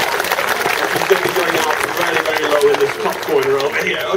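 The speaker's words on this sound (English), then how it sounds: "So let's give Sydney a really big round of applause" An audience at an eagle flying display gives a loud, sustained round of applause, with a voice talking over it throughout.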